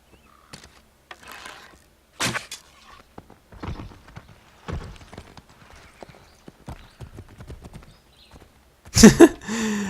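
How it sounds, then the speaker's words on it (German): Horse hooves clip-clopping in the Assassin's Creed 3 video game, a series of scattered thuds and steps with brief gaps, ending in a louder burst of movement near the end. "Das Pferd abgeschossen, es galoppiert trotzdem weiter."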